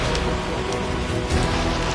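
Steady rain falls close by, a dense even hiss of drops with a few sharper splashes.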